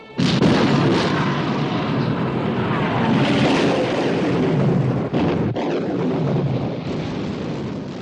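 Warship guns fire in a 1960 naval battle film, heavy booming blasts and roaring rumble filling the track, with sharp cutoffs between shots and a continuous loud wash of explosions and wind-like noise.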